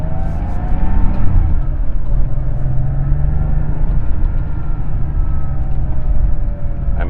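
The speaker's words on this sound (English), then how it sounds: "This is a 1988 Porsche 911. So you're just listening to what it feels like to be inside this cabin." Steady engine drone and road rumble inside the cabin of a 1988 Porsche 911 driving in second gear through city traffic, loud and continuous with gentle pitch shifts as revs change, no talking.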